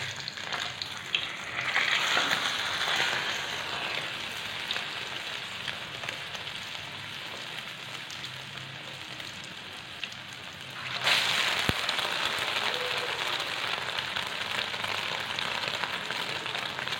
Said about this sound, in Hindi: आप कबाब उठा के इसमें डाल दें फ्राई पैन में